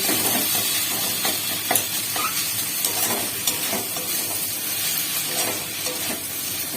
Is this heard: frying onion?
yes